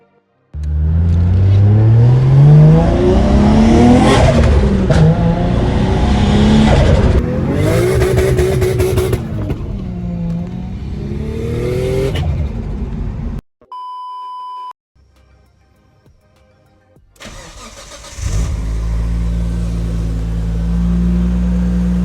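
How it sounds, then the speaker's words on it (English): Nissan Skyline R33 engine cranks and fires, revving loudly close by with rising and falling sweeps, then cutting out for a few seconds with a brief beep before settling into a steady, deep idle. "we can start it up. So let's have a little listen."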